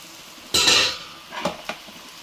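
Boiled noodles with vegetables are tossed in a pan, with one loud scraping sweep of the spatula followed by a couple of shorter clinks and scrapes, close and without talk.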